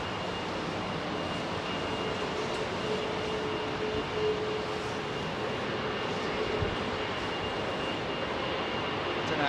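An Iberia airliner on Heathrow's runway 27R gives off a steady, loud jet roar up close, with a faint high whine above it and no break in the noise.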